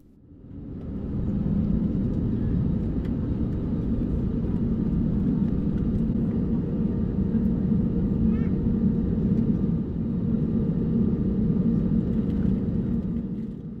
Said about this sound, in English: We taxied to runway 18 via Bravo.